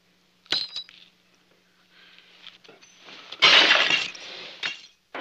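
Drinking glasses shatter after a toast in an officers' mess, a sharp crash near the start and then a louder, longer burst of breaking glass with tinkling fragments, close and distinct.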